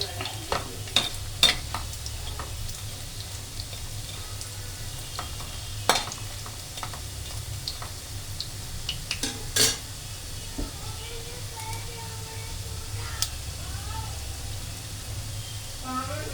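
Bajji battered fritters fry in hot oil with a steady, low sizzle. A utensil clinks and scrapes now and then as the pieces are turned over, and faint talk sits in the background.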